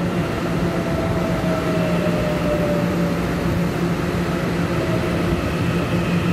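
A silver-green EMU900 ten-car commuter train pulls into a station with a loud, steady, close rumble of wheels and motors, joined by a faint gliding electric whine, and no voices.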